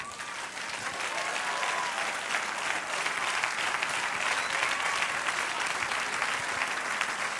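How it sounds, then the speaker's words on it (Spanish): A church congregation breaks into sustained applause during a Spanish-language sermon, a dense, even wash of many hands clapping together that holds steady throughout. "Denle un aplauso al Señor."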